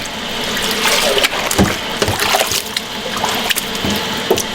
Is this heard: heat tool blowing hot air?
no